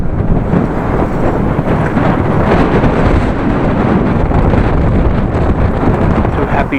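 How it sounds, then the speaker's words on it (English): Strong wind buffeting the microphone of a cyclist riding through Groningen streets, a loud continuous low roar and rumble with no breaks, masking other sound. "wind in my face"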